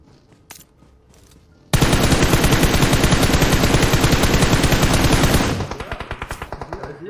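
Sustained automatic gunfire in the mobile battle royale game PUBG Mobile, a loud, dense rapid burst lasting several seconds, then lighter spaced shots as it tapers off.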